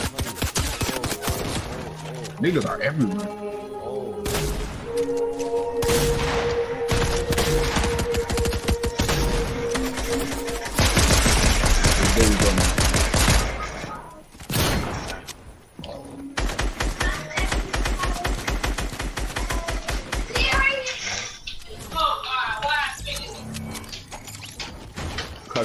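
Rapid bursts of gunfire in a Fortnite duos match, loud and continuous with repeated sharp shots and fusillade-like volleys, heard close under someone talking over the action.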